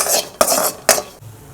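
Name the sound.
crushed garlic dry-roasting in a pan without oil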